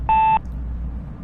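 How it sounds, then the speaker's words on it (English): A single clear electronic beep from a voicemail system's recording tone, about a quarter second long, sounds over a low phone-line hiss before the line goes quiet. "At the tone, please record your message."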